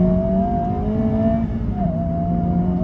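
A Honda Civic Type R engine holds a strong, steady tone with shifting pitch as the car is driven through a turn, loud and close with no talk.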